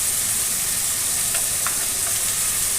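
Tomato and spices, including ground ginger and cumin paste, fry in a pan for a fish-head chhachra, giving a loud, steady sizzling hiss with faint crackles and no pauses.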